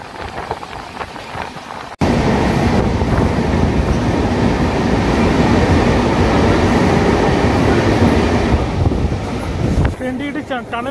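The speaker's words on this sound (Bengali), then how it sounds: "ট্রেনটি একটি টানেলে ঢুকেছিল বন্ধুরা," Samaleswari Express train running through a tunnel in the Eastern Ghats hills of Odisha, a loud, steady enclosed roar of wheels and wind that starts abruptly and fades out near the end.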